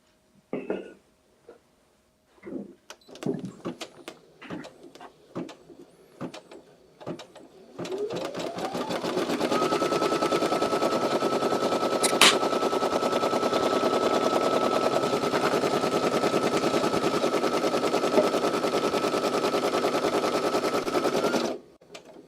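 A Ricoma EM1 embroidery machine stitches an in-the-hoop chip or candy bag pouch, with quilting fabric taped in the hoop. A few scattered clicks and taps come first, then a steady, loud, fast rhythmic stitching runs for about fourteen seconds before it stops.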